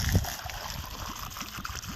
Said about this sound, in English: So we got pretty clear water coming out.